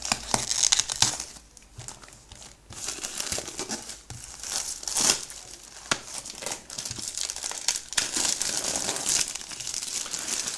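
Paper packaging being torn open and unwrapped from a Pokémon display box: continuous close crinkling and crumpling with sharper tearing bursts, fairly loud and steady for the whole stretch, no talking.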